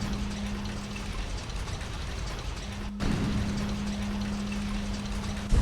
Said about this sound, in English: the reason why it's raining like this is because there's a slow but steady crack in the ceiling